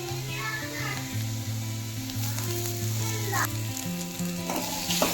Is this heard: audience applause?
no